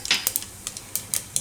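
Mustard seeds spluttering in hot oil, a quick scatter of sharp, close pops and crackles over a faint background hiss.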